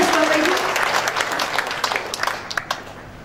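A church congregation claps along, a broad wash of applause that thins out into a few scattered individual claps toward the end, with a voice talking over it at the start.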